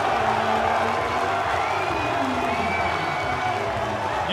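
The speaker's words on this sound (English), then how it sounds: "You hear the crowd screaming in that background here" Crowd at Avery Aquatic Center screaming and cheering during the UCLA vs. USC NCAA men's water polo championship, a loud, continuous roar of voices with whoops and shouts rising and falling under the play.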